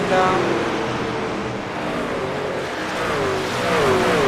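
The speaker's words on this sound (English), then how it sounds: "Hopefully you drivers enjoy the sound of these trucks around ISM here" Racing truck engines roar around the ISM oval during a truck series race, a steady loud engine drone with rising and falling pitch as trucks pass, under a continuous crowd-like wash.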